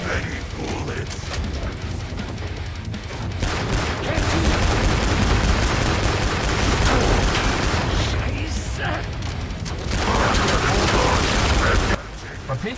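Sustained AA-12 automatic shotgun fire in the Killing Floor 2 video game, a dense, loud, continuous barrage of rapid shots with mechanical clatter and game effects, briefly easing before resuming, while a voice talks over it.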